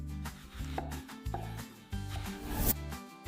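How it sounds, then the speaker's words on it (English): A knife chops vegetables on a chopping board in a series of quick, close taps, heard over steady background music. "Cut vegetables on the chopping board."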